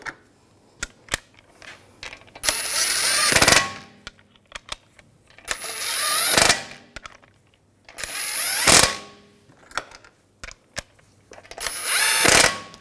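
Wheel lug bolts on a 2007-2013 BMW 328i are snugged down with a ratchet, four separate bursts of rapid clicking, each rising to a loud close peak, with scattered clanks and taps between them.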